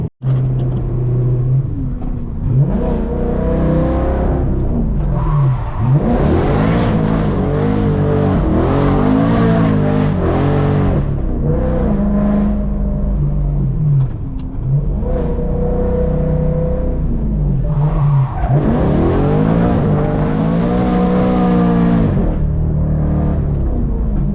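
A BMW E92 M3 drifting on a mountain road, its engine revving hard and rising and falling continuously with tire squeal over a loud, steady roar throughout.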